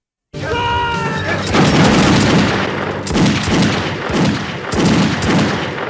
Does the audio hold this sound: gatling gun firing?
yes